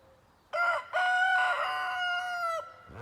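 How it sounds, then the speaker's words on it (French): A broody hen gives sustained, drawn-out clucking calls in a henhouse, a loud nearby vocalization running about two seconds with a brief break near the start. "la poule glousse"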